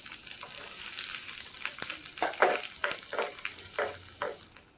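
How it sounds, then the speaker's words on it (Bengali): Chopped garlic hits hot ghee for a dhaba-style dal tadka and sizzles steadily, with crackling bursts and a few stirring scrapes, close and moderately loud, with no voices. "আমি ঘিতে রসুন কুচিটা দিয়ে দেবো।"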